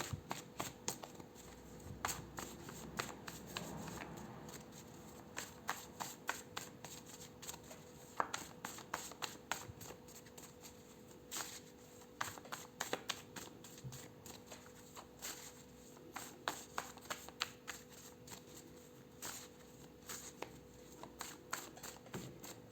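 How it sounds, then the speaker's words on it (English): Tarot cards are shuffled by hand in quick, repeated riffling bursts that keep going close by in a quiet room, with a steady low hum underneath and no talking. "I will pull some health and lifestyle cards for you."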